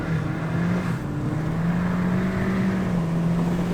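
Ford Fiesta ST180 engine holding a steady droning note at speed on a track day, loud and continuous throughout with no talk over it.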